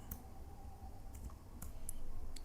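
A computer keyboard is pressed in a few sparse, soft clicks against a quiet room hum while a web page is set up in HTML and CSS.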